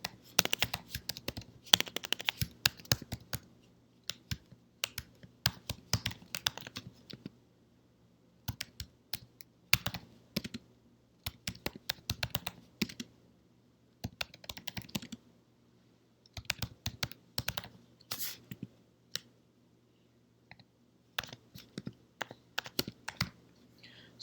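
Computer keyboard typing as a MATLAB friction factor formula is entered, with bursts of quick, quiet key clicks separated by short pauses, close and fairly soft throughout.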